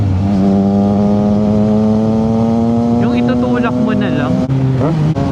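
A steady Triumph Trident motorcycle engine hum climbs slowly in pitch, then drops and briefly blips up near the end during rev matching, with a voice talking over it midway.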